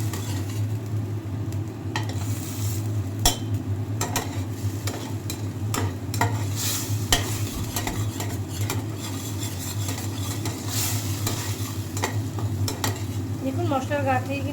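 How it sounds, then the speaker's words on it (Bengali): Onion and garlic masala sautéing in a pan, a close steady sizzle broken by repeated clinks and scrapes of a metal spatula against the pan as it is stirred. "এবার এটাকে ভালো করে কষাবো যাতে পেঁয়াজ আর রসুনের গন্ধটা"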